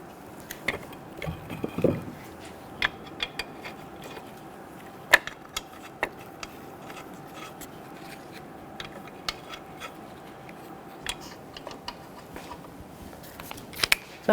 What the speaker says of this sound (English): We'll start our lug nuts by hand.